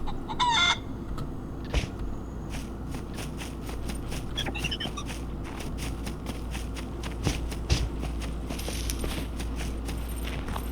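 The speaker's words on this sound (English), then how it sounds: "Can't believe I'm chicken chasing with a knife." Chickens cluck and a rooster crows in the survival video game SCUM, close and clear, with soft footsteps and small jangling among the scattered clucks.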